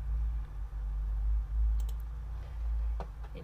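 Keys click softly on a computer keyboard as a code is entered, a few quick taps over a low steady hum.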